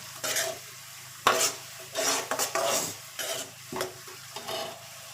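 Onions are gently stirred in a frying pan, with a spoon scraping in uneven strokes over a soft, steady sizzle, close and clear with no talking.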